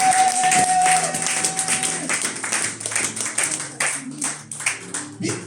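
A church congregation breaks into rapid, scattered clapping that rises and tapers in uneven waves, with voices and a sustained tone mixed in beneath.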